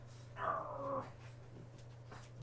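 A puppy named Striker gives a single short, soft whimper, faint and close over a low steady hum, followed by quiet.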